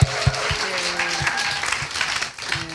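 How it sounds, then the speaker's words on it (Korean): Congregation clapping in praise to God during a Sunday worship service in a Korean church, a steady burst of applause with some organ or keyboard tones beneath, fading slightly toward the end. "하나님께 다시 한번 영광의 박수를 올려드리겠습니다"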